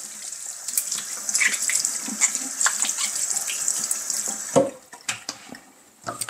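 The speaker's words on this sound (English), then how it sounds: "a rinse and rubbing." Water from a tap runs steadily while the rubber lid seal of an Air Still Pro is rinsed and rubbed by hand, with small splashes and handling knocks; the flow stops near the end, leaving a few clicks.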